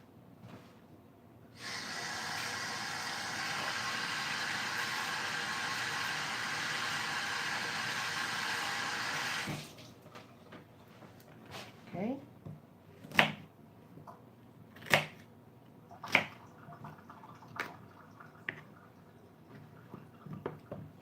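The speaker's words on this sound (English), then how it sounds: "And I'm going to wash these off." Running tap water pours loudly over celery for about seven seconds, then stops, followed by scattered clinks and handling sounds nearby.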